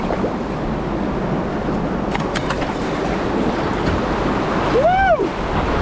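A canoe runs the Sluice Weir chute on the Medway canoe trail. Steady, loud rushing water fills the whole stretch, with brief voices near the end.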